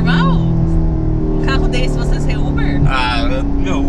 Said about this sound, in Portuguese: Eu só vou acelerar aqui pra você chegar bem rápido no seu destino